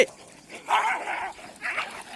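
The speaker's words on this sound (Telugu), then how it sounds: "ఆ కుక్క కూడా దీనిపై అటాక్ చేయడానికి వచ్చింది" Street dogs scuffling outdoors near a ploughed field, with two bursts of snarling, yelping noise separated by a brief lull, fairly close and raw.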